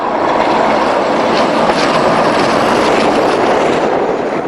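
A UK railtour charter train passes close by, its loud, dense roar of engine and wheels on rail filling the air steadily from start to finish.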